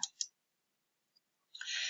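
Mouse clicks on tab arrows in a course web page: two quick, crisp clicks close together, then silence and a tiny tick, followed by a brief burst of clicking and rustle at the end.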